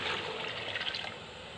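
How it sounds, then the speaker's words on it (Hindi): Water is poured into sautéed mixed vegetables in a cooking pot for sabzi pulao, a soft, fairly faint rushing splash that is steady for most of the moment and then eases slightly. "अब हम इसमें पानी डाल देंगे।"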